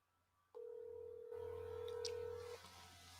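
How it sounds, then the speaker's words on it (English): A phone is being dialed to make a call. A steady dial-type tone holds for about two seconds, with a short tonal blip near the end, quiet and alone. "I guess we can call Carl and see where the fuck he is."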